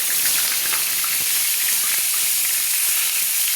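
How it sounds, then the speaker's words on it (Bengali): Pieces of pointed gourd (potol) fry in hot oil for a Bengali potol chingri dish, giving a loud, dense, continuous sizzle with steady hiss and small crackles throughout, close up and without voices. "তো এবার আমি ওই তেলে তুলে দিচ্ছি পটলগুলো"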